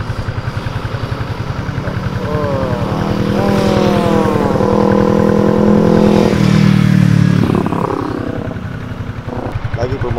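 Yamaha Y16ZR motorcycle ridden at an easy pace on the road, its engine a steady close drone that swells in the middle before easing off, with wind rush and someone talking over it.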